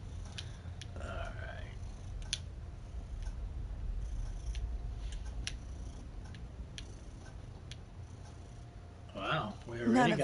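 A cat purrs softly and steadily in Fallout 4, a low continuous rumble running the whole stretch, with brief game sounds and voices breaking in and a louder burst near the end.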